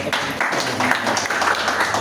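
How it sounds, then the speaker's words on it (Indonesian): Applause for the heritage preservers of Galuh Timur, a steady patter of many hands clapping together throughout, fairly close and full, with some voices mixed in. "Tepuk tangan buat pelestari Galuh Timur."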